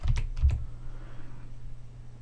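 A few quick clicks on a computer keyboard while working in MATLAB, two or three close taps at the start followed by quiet room hum.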